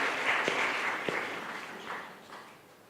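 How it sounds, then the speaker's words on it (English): A conference audience gives a round of applause to three planning zones, a dense, moderately loud wash of clapping that fades gradually over about three seconds with no talk. "So a big round of applause to these three zones."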